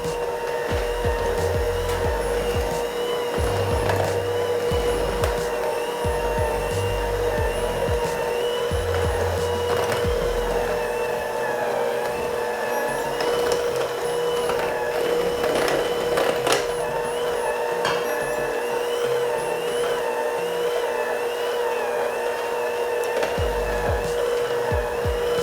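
A stand mixer whirs steadily through dry ingredients and flour for cream cheese chocolate chip cookie dough, a continuous motor drone running loud and close for the whole stretch with small shifts in pitch.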